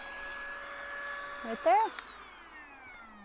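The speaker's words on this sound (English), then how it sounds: "let's check out this handheld vacuum by GXZ SK. Here is your on-off switch." A GXZ SK handheld USB rechargeable vacuum runs with a steady high whine, heard close, which winds down as it is switched off while a voice speaks briefly over it.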